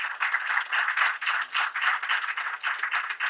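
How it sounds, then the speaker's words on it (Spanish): Audience applauding panelists at an intellectual property damages seminar, a dense, even burst of many hands clapping in a room, sustained throughout. "Un aplauso primero a nuestros panelistas."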